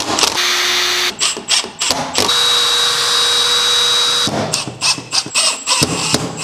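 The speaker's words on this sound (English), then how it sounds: "add some screws to it" Close power drill whirring in repeated short bursts and a few longer runs, driving screws into a wooden cross cut sled, loud and without talk.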